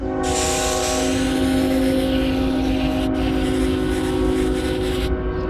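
A train rumbles past nearby, steady and loud, with a low droning hum and broadband roar throughout and no voices.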